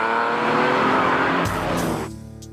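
A TVR sports car engine roars loudly and raw, a dense revving growl that drops off sharply near the end, with a couple of brief bright noise bursts mixed in.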